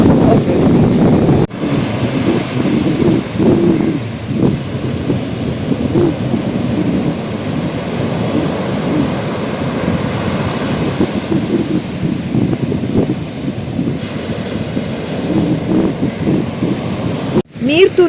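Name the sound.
flowing water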